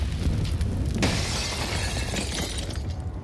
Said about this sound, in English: That nade just does a bit of damage onto Config